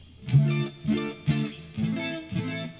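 Clean electric guitar through a Rivera Knucklehead amp, playing evenly spaced notes and chords, smoothed and sustained by compression with a sweeping, swirling flanger effect and light reverb.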